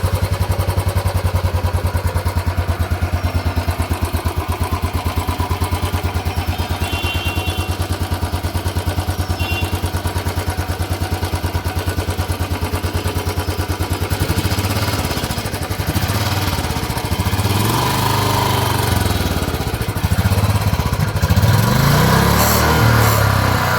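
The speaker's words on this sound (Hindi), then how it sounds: "चलिए एक बार एग्जॉस्ट साउंड जो है वो एक बार चेकआउट करते हैं।" Royal Enfield Bullet ES 350 BS6 motorcycle idling, its exhaust giving a steady low thumping beat close up, then briefly revved so the note rises and roughens before settling.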